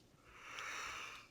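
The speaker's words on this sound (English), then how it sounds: "Did you just yawn on my fucking podcast" A single drawn-out human yawn, breathy and airy, swelling in the middle and fading out over about a second, close to the microphone with no talking.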